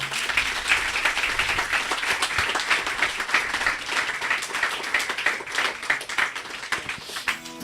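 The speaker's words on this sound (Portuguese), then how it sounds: "Você pode aplaudir ao Senhor?" A church congregation applauding during a worship service, sustained dense clapping from a large group at moderate loudness, steady throughout with a few voices mixed in.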